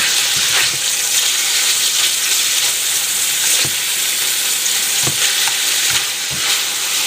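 Thin-cut meat fries in a pan with a loud, continuous sizzle, broken by occasional scraping stirs and soft clinks.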